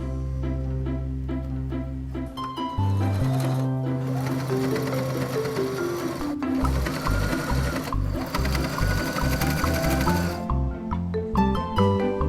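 A sewing machine runs steadily up close, stitching folded fabric for a three-layer face mask, its rapid mechanical chatter continuous and loud with a few brief changes in pace near the end.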